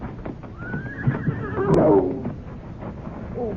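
A horse gives a loud, rising and falling whinny in a CBS radio mystery drama, set among rustling and thumping hoof-like sounds, and someone speaks briefly.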